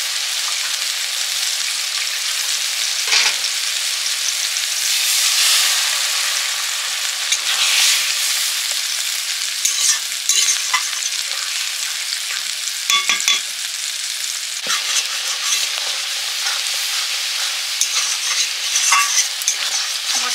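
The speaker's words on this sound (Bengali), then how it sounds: "জল দিয়ে মশলাটা কষিয়ে নেব।" Spice paste with turmeric and chili mixed in water fries and is stirred in a pan, giving a loud, continuous hiss with repeated scraping and spattering bursts throughout.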